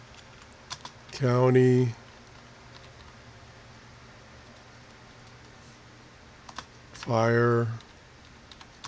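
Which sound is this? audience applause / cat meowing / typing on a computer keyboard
typing on a computer keyboard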